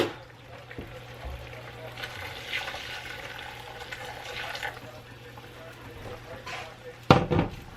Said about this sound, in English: I'm going to go ahead and add the broth